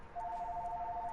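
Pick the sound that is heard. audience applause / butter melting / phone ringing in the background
phone ringing in the background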